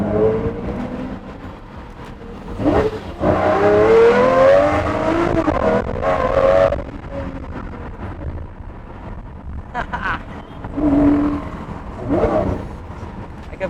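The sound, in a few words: Lamborghini Murcielago LP640 engine revving through upshifts and downshifts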